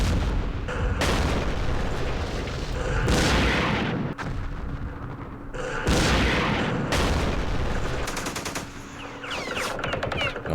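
Machine-gun bursts and heavy booming explosions in the Vietnam War strategy game Campaign Series Vietnam, loud and sustained with repeated rattling volleys and large blasts rolling through the whole stretch, no voices.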